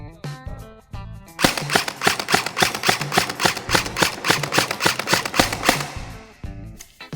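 A stock airsoft gun loaded with heavy BBs fires a rapid full-auto burst of sharp, evenly spaced clicking pops lasting several seconds, loud and close, with no talking during the string.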